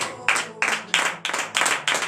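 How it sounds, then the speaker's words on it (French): A small church group at morning prayer claps in quick, regular bursts, six or so rhythmic rounds of hand claps close by, with no voices. "Donnez l'acclamation à notre Seigneur Jésus."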